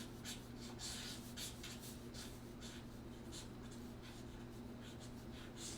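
A pencil or pen sketching a drawing of the goddess Thalia on paper, soft repeated scratchy strokes, close and quiet over a steady low hum.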